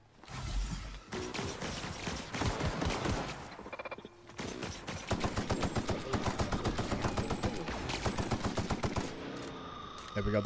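Rifle fire in The Outer Worlds, long rapid bursts of automatic shots in a steady fast rhythm, briefly broken by a pause and mechanical clicks, with a voice heard faintly at times.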